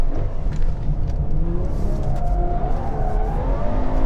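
Ferrari 812 Superfast with its 800 hp front-mounted V12 revving from inside the car, a loud continuous engine drone that rises and falls in pitch alongside steady road and cabin rumble, with no talking.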